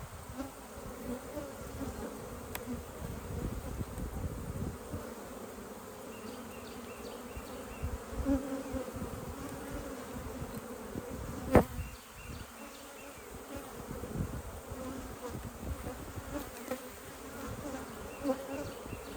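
Honey bees buzz steadily around an open hive colony in an apiary during a late-summer inspection, a continuous droning hum with a few sharper passes close by, and no talking.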